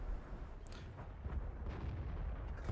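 Tank cannon fire in a tank video game, with an IS-3 heavy tank among the vehicles, comes through as muffled, rumbling booms over a steady low battle din, fairly faint throughout.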